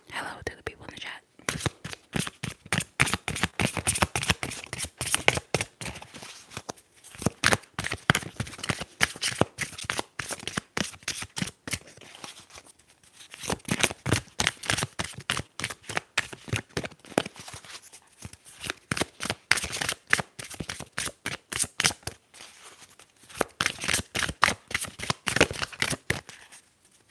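Tarot cards are shuffled close and crisp in repeated riffling bursts, each a fast flutter of card edges separated by brief pauses, with soft whispered talk woven through.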